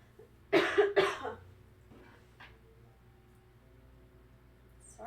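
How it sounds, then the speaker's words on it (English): A few sharp, rough coughs in quick succession from dust, close and fairly loud, followed by a quieter throat sound and a soft low hum in the room. "Sorry for all my hacking and coughing."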